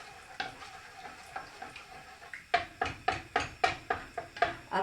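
Mango pieces with sugar and water heating toward a boil in a pot: a low simmering hiss, then a steady run of rhythmic stirring knocks close by, with no talking.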